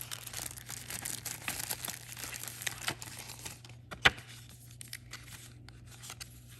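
Packaging for a wireless microphone is unfolded and crinkled close by, giving a few seconds of rustling, crackling handling noise with one sharp snap, then fading to quiet.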